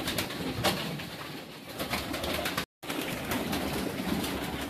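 A flock of breeding pigeons is released together, the air full of dense, continuous fluttering and wing flaps, with sharp claps and the odd coo, loud and close, broken by one brief silent gap.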